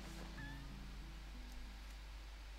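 A chicken clucking in The Legend of Zelda: Twilight Princess, a few faint short clucks over a low steady hum, quiet and without talk.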